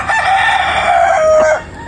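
A rooster crows once nearby, a loud drawn-out call lasting over a second before breaking off.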